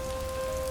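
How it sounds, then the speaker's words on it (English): Steady rain falls in a DDLC mod game scene, a dense continuous patter with a faint tonal hum beneath, no voices. "it's raining pretty bad right now"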